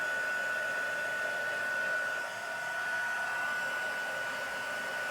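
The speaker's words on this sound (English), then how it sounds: "And then you do your heat gun. Heat it up." Heat gun blowing hot air over a stamped craft piece, a steady whooshing roar with a constant tonal hum running throughout, even and uninterrupted.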